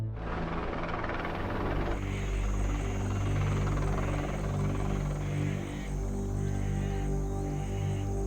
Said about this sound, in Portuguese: Ilko, Raimundo, eu acho que tô ouvindo o helicóptero